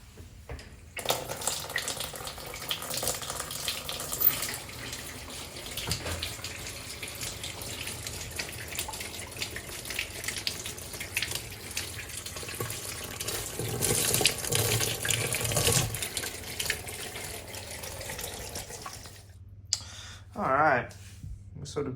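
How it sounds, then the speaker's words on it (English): A Daewoo DW900C washing machine fills with hot water, a steady gushing flow of water running for most of the stretch before cutting off, with brief voice sounds near the end. "I'm going to get this filled up with hot water"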